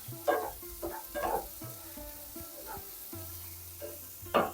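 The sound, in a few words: frying Kashmiri chillies, coriander and pepper in a pan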